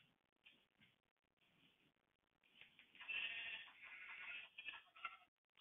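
Sheep in the Minecraft video game bleat a few times, faint at first and then louder, over quiet game ambience.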